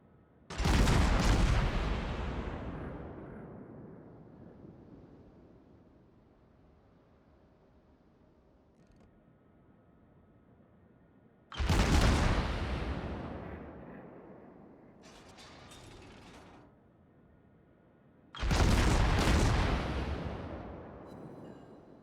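The heavy naval guns of the warship Atago in World of Warships fire three huge booming salvos, each a loud, deep blast with a long rolling decay. Quiet gaps separate them, and one gap holds a brief softer shot.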